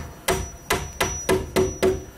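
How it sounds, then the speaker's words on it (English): A carpenter's hammer knocks nails out of roof timber during pitched-roof construction: six sharp, close metallic strikes in a steady rhythm about a third of a second apart, with no talking. "It's very rare I get to use my hammer anymore"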